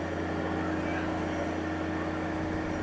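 A John Deere 1023E compact tractor engine runs hard near 4,000 RPM, a steady, loud, droning hum that stays constant throughout with no break.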